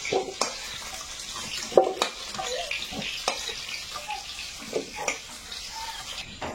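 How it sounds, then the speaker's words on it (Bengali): Raw mango pieces frying in oil with turmeric and salt in a village kitchen, giving a steady close sizzle broken by several sharp scrapes and clatters of stirring against the pan. "সামান্য একটু হলুদ আর লবণ দিয়ে ভেজে নিচ্ছি আমটা"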